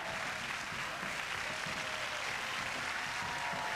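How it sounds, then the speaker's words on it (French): A studio audience at a French TV game show applauds in a dense, steady wash of clapping that fills the whole stretch, moderately loud and unbroken, with no clear voices on top. "en face de moi, c'est une véritable légion qui s'applaudit"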